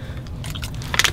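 Close-up biting and chewing of bubble gum, a brief run of small crunchy, wet mouth clicks over a low background hum, no talking.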